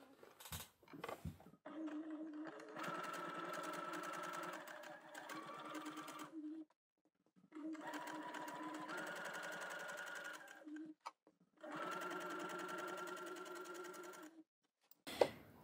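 Sewing machine stitching fabric in three runs of rapid, even mechanical whirring with brief pauses and handling clicks between them, close and clear.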